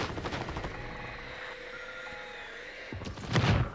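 Helicopters arriving in the video game Warzone on Rebirth Island, a steady rotor thrum and engine whine under game effects, with a burst of gunfire-like cracks near the end.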